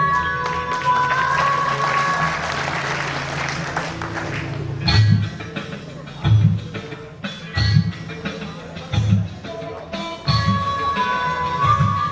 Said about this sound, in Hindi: बहुत जोश के साथ तालियां बजाते रहिएगा